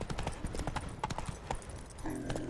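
Horse hooves from the video game The Witcher 3, a steady galloping clip-clop rhythm heard close and fairly loud, with in-game sounds layered over it and a brief shift in tone near the end.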